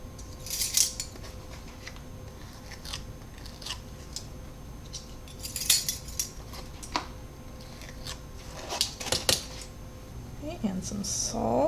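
Dry ingredients, flour and baking soda, are measured and sifted for Neapolitan cookies: scattered scraping, tapping and rustling bursts near the start, middle and end, with a brief voice close to the finish.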